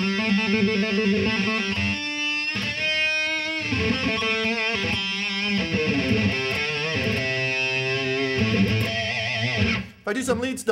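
A distorted electric guitar, a Gibson Les Paul Standard Limited Edition through a Line 6 amp, plays a sustained lead line with bends and held notes, loud and continuous, ending abruptly.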